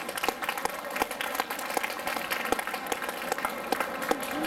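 Audience applause at a singing contest final during an outdoor summer tour in Millesimo, a dense steady patter of many hands clapping, sustained and fairly close, with no speech over it.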